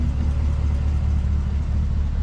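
A 2026 Chevrolet Silverado 1500 LT pickup in sport drive mode idles with its exhaust valves open, a deep, steady low rumble heard close up with no talk over it.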